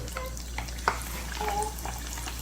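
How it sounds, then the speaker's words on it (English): Chicken pieces for a crispy chicken burger frying in hot oil, giving a steady sizzle with light crackles and a few sharp pops throughout, close and moderately loud. "Once the chicken goes into the hot oil, listen to that sizzle."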